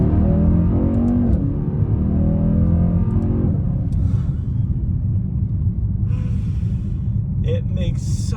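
A Mercedes-AMG E63 wagon's engine opens up into a loud, deep, surging roar with rising revs early on, heard from inside the car, then a steadier rumble.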